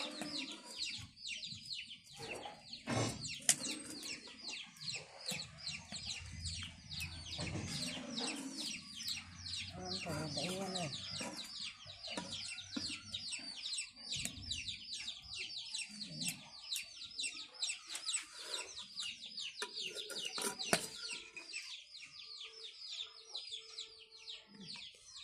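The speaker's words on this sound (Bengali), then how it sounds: "এখানে আমাদের মুরগির বাচ্চা ফুটছে, তো ছোট বাচ্চা চাও চাও করতেছে।" Newly hatched chicken chicks peep continuously in a dense, high chorus of overlapping chirps throughout, close by and fairly soft, with occasional low background noises.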